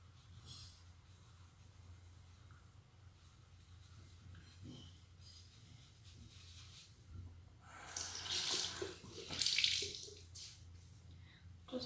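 A bathroom tap runs water onto a soft konjac sponge. A faint trickle swells into a louder gush and splash near the end, close by, with no talking.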